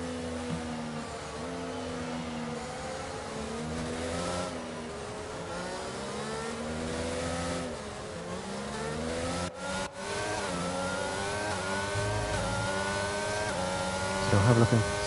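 Race cars in a racing video game accelerate off the start at the Chinese circuit, a loud continuous chorus of engines climbing and shifting in pitch with rising and falling whines, dense and close throughout.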